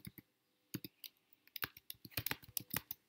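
Fingers type on a computer keyboard, producing quiet, close clicks in short irregular bursts that quicken into a busier flurry of keystrokes toward the end.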